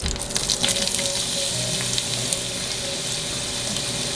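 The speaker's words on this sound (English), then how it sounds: "Now that this is melted, I'm going to go down to medium-low and then add my onion." Onion dropped into melted butter in a hot skillet over medium-low heat, giving a steady close sizzle and crackle that holds at an even level for the whole clip, with no talking.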